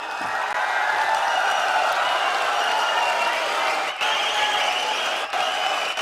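An audience at a Congress rally in Adyar Garden, Mangaluru, stands and applauds, a dense sustained wave of clapping with crowd noise from a large gathering.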